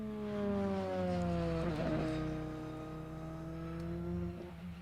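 A DTM race car laps the Assen circuit during free practice, its engine note loud and close, pitch sliding down steadily as it lifts through a corner, with a brief gearshift burble midway and no talk.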